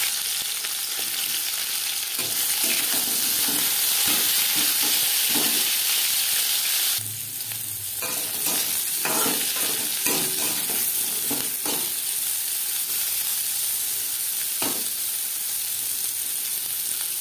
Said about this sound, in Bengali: অন্য একটি কড়াইতে উচ্ছে ও ডাঁটা ভেজে নেব।